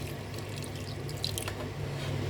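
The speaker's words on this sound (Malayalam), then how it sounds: "ഞാൻ ഇതിൻ്റെ കൂടെ കുറച്ച് വെള്ളം കൂടി ഒഴിച്ചു കൊടുക്കുന്നുണ്ട്" Water is poured into pork masala in a pressure cooker, giving a soft close splash with a few brief drips and trickles over quiet room noise.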